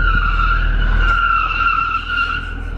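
An 800HP Lamborghini spins donuts in race mode with traction control fully off, its tires letting out a loud, steady high squeal over a low engine roar for the whole stretch, without any talking.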